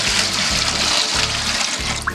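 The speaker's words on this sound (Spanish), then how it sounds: "A la vaporera le agregamos agua," About two liters of water are poured into a barbacoa steamer pot, a close, continuous splashing pour with rhythmic low surges as the stream fills the pot.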